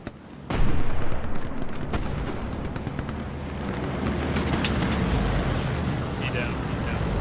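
In the video game Hell Let Loose, a BAR fires a burst of loud gunshots, followed by a dense, continuous roar of battlefield gunfire and distant explosions, with faint voices under it.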